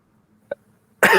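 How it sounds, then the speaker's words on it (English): A short faint sound, then a single loud, close cough from a person with COVID bursts out near the end after near silence. "Got my COVID cough here."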